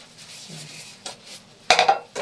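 Dishes being washed in a home kitchen: quiet scrapes and a few sharp clinks of plates and cutlery, with the loudest clatter near the end.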